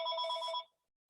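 A telephone bell rings once in a short trilling burst during a meeting, clear and fairly close, then cuts off into silence.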